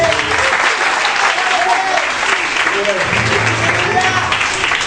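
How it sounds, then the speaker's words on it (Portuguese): A congregation claps steadily through a lively evangelical worship service in a church in Barueri, São Paulo. The applause is loud, dense and sustained, with faint voices and music beneath. "Aplauda Jesus."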